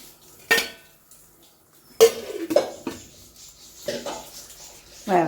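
Metal steamer pot set down on a kitchen stove and covered with its lid while making a semolina breakfast, heard as a few separate clanks and clinks of cookware spread over several seconds, fairly close, with no talking.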